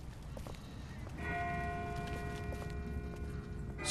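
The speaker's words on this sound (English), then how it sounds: "That's not the same bell as before. This one's further off." In The Walking Dead video game, a distant bell tolls with a sustained ringing tone that enters partway through and lingers faintly over quiet outdoor ambience.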